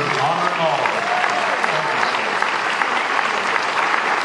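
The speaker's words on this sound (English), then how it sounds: "one applaud for Dennis Lindsay" An audience claps for Dennis Lindsay at a hall of fame induction, a dense, steady wash of applause heard close and loud throughout, with a voice briefly audible at the start.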